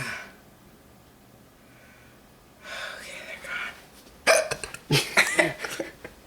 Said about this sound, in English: every time I get hiccups, they're violent and they hurt